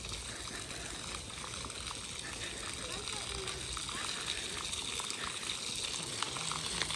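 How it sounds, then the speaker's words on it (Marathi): A water fountain at a scenic lake in a hill village gives off a continuous, even rush of splashing water, moderately distant and unbroken for the whole stretch. "ते छान असं बघा पाण्याचं असं फाउंटन टाईप केलेलं आहे"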